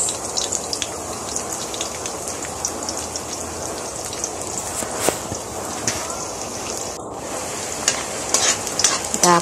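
Garlic and onion sizzle steadily in a frying pan while a utensil stirs and scrapes through them in repeated strokes, the cooking close and fairly loud, with no talk.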